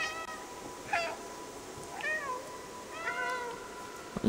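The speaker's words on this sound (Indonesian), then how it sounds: "Ini suara kucing oranye ya." An orange cat in the video game Stray meows three times at roughly one-second intervals, clear and close over a quiet background hum.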